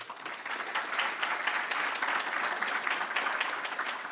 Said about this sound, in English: let's give them a warm applause for being here.